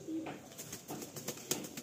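Andhra and Malwai pigeons cooing faintly and steadily at a rooftop loft, soft repeated low coos over quiet background noise.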